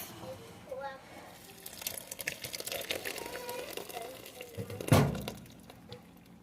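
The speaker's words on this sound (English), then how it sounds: "Now it's time to go drain your noodles." Boiled pasta noodles for chicken Alfredo are drained, water splashing and rushing with a loud clattering thunk partway through, while a person talks over the sound.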